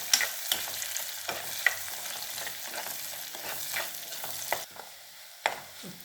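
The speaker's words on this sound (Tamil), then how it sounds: "பூண்டு நல்லா வதங்கிடுச்சு நல்லா செவக்க வதங்கணும்" Garlic sautéing in oil for garlic kulambu gives a soft, steady sizzle under repeated stirring strokes and brief scrapes, fairly quiet and close, with no voices.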